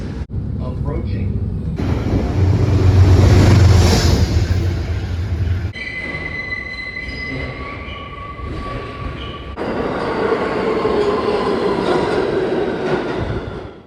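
DC Metro Red Line train running under automatic operation rolls into a station with a loud, steady roar, a whining motor tone and squealing wheels, while a recorded announcement plays over it.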